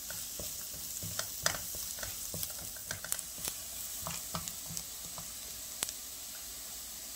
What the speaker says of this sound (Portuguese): Agora eu vou colocar a cebola e o alho. E eu vou ficar mexendo aqui